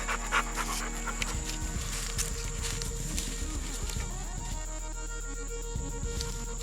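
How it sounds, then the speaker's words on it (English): An old dog named Bubba panting near a stone doorway outdoors, quick rhythmic breaths close by over a faint steady hum, with a few soft shuffles. "And the old dog."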